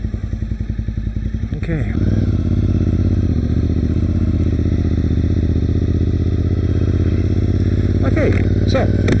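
A motorcycle rides along a road past construction on the drive into Port Dover, its engine droning loud and steady up close after a brief uneven start, with someone talking briefly over it.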